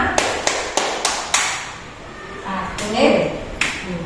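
A run of about five evenly spaced hand claps in a classroom counting game, sharp and close, followed by an adult voice talking.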